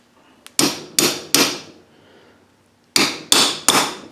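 A car suspension bushing being pressed or tapped into place on an Acura RSX, sharp metallic knocks in two quick groups of three, loud and close with a brief pause between.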